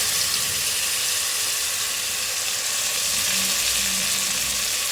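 Surti papdi beans drop into hot oil spiced with turmeric, red chili and coriander-cumin powder, giving a loud, continuous hiss and crackle of frying that holds steady throughout with no talking.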